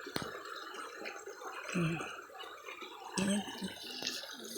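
Water flowing from an old spring beside a creek, a continuous rushing and gurgling stream with bursts of splashing, while people talk briefly over it.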